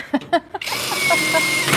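A power drill bores a hole through a 1968 Volkswagen part with an undersized bit, a steady whirring grind starting after a few short knocks and running continuously near the mic.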